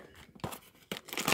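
2017 Topps Gypsy Queen baseball card pack wrapper torn open, two quick close crinkly rips of foil plastic, each a short sharp burst of tearing.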